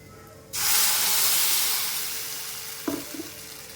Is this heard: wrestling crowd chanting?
no